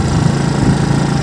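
A rental motorbike engine idles steadily in the desert, a close, rough low rumble that stays even and continuous with no voices over it.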